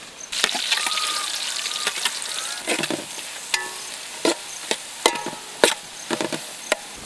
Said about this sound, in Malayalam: ഈ ഉള്ളി ഉണ്ടല്ലോ, എണ്ണയിലിടുമ്പോൾ ഒരു സൗണ്ട് ഉണ്ട്, അടിപൊളി സൗണ്ടാണ്.